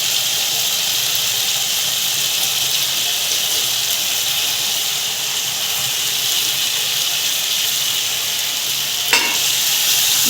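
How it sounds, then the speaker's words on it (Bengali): Taro pieces are stirred into spice paste frying in oil in a village kitchen, a loud, steady close sizzle with a brief scraping knock near the end. "ভালো করে মশলার মধ্যে কচুগুলোকে নাড়িয়ে দিলাম।"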